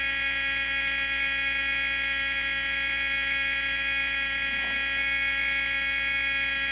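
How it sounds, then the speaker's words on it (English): A transistor radio plays a test signal injected from a Superior Instrument radio tester: a steady buzzing tone with strong harmonics, continuous and unchanging over a faint background hiss, with no voices. "This radio is playing right at the very beginning of the radio, and you can hear that signal that we saw on the scope."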